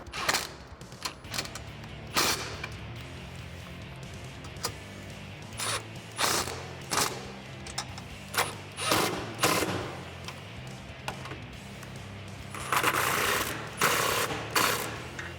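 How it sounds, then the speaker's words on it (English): An impact wrench with a 13mm socket tightens step bar bolts on a 2005-2023 Toyota Tacoma, with several loud, rattling bursts of hammering separated by short pauses. "I'm going to use a 13mm socket and my impact wrench to do so."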